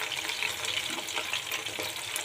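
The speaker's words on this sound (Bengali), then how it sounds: "তো আমি চিকেনটাকে 2 বারে ভাজবো" Chicken pakora frying in a pan, a dense close sizzle of hot oil with small bubbling crackles, holding steady throughout without any talking.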